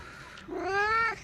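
A male cat gives a single clear, drawn-out meow, close and loud, rising then falling, as he comes running up to his owner indoors.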